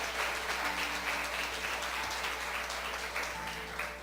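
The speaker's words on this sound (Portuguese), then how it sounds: "Aplauda o Senhor mais forte," A church congregation claps loudly and continuously, a dense wash of applause filling a large room without pause.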